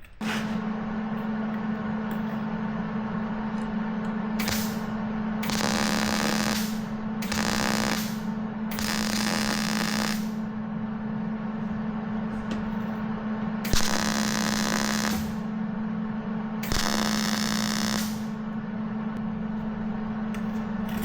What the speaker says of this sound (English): I'm gonna turn the welder on so it's gonna get noisy